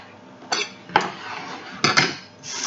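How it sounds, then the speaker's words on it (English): A potato masher mashes avocado for guacamole in a home kitchen, giving four sharp, squelching thumps against the bowl at uneven intervals, close and fairly loud, with no talking. "This here is my potato masher, but it's nice for mushing all sorts of things."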